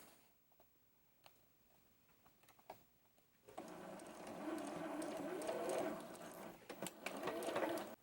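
A sewing machine runs steadily at close range, stitching a seam right off the end of a fabric piece for a quilted mini double wedding ring block, with quiet handling sounds before the motor starts.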